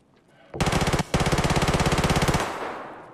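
Video game gunfire in a fast automatic burst, loud and close, with a brief break after the first half-second before a long sustained rattle resumes and then stops.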